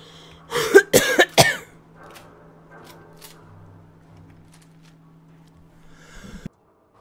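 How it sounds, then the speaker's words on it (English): A coughing fit indoors: three or four harsh, close coughs in quick succession near the start, then a quiet stretch with a low steady hum and a small scuffing sound at the end. "Another coughing fit."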